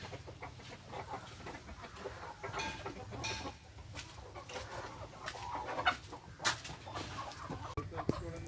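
Native backyard chickens, both hens and roosters kept for eggs, cluck and chatter nearby in soft, irregular bursts over steady outdoor background noise.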